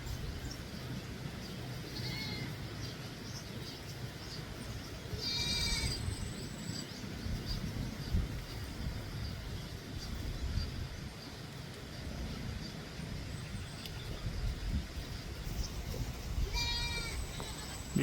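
Goats bleat a few times, the calls spread out over a long stretch of rustling outdoor background noise, moderately close.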